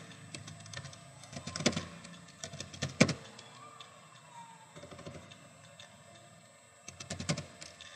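A computer keyboard clatters in short bursts of quick key taps with pauses between, fairly quiet and close, as a command is typed on a Windows Server 2003 machine.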